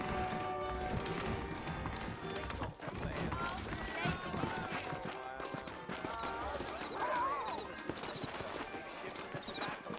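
Horse hooves clip-clop at a running pace in Red Dead Redemption on PC, a steady galloping rhythm with an occasional whinny, blended under game music and spoken dialogue.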